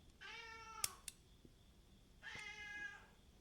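A house cat meows twice indoors, each call a drawn-out, fairly loud wail separated by a short pause with a couple of small knocks and clicks in between.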